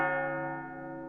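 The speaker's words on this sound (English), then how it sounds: "A 4th and final bell rang." A single chapel bell strikes once at night, ringing out with a clear metallic tone that decays slowly over about a second, with no other sounds.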